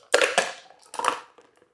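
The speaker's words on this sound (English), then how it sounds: "pour all the ingredients, including the ice, directly into your hurricane glass" A cocktail with its ice is dumped straight into a hurricane glass, giving two short, loud crunching rattles of cubes tumbling, then a faint settling clink, with no talking.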